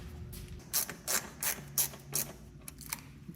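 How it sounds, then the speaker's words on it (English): Screws being started into locating holes on trim of a Jaguar E-Type car under build, a series of short, evenly spaced ratcheting clicks close by, about five bursts with brief pauses between. "now what I want to do is start these locating screws."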